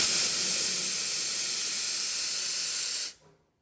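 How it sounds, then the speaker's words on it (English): A serviced espresso machine's steam wand, heated with its pressure stat cutting out around 2 bars, blasts a strong, steady hiss of steam for about three seconds and then shuts off abruptly into silence. "Nice strong steam."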